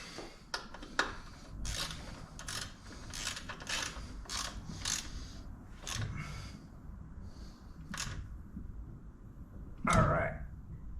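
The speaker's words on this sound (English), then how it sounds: "Now I'm going to tighten up the pinch bolt" Ratchet wrench clicking in short bursts while tightening the pinch bolt on a bicycle wheel axle, a loud close metallic ratcheting repeated about a dozen times over a low background.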